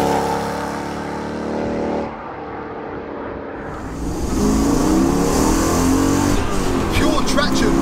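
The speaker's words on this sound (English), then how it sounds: "the emotion it invokes, just that raspy V8" A 400 bhp Mercedes C43 AMG track car with a swapped 5.5 V8 revs hard, its raspy engine note climbing from a steady drone into a loud, rising roar near the end, with someone talking over it.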